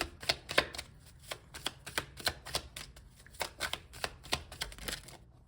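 A deck of tarot cards is shuffled in a rapid series of crisp riffling and slapping bursts, close and fairly quiet, with no talking.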